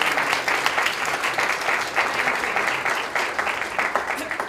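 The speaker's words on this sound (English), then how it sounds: "please give them a round of applause" Audience applause at a Law Day event, a dense wash of clapping that swells in waves and continues steadily throughout.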